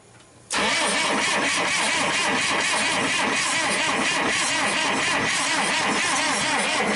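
A diesel engine running off a small truck battery, from a rat rod project, catches after a brief quiet start and settles into a steady, loud, close rumble that runs on continuously.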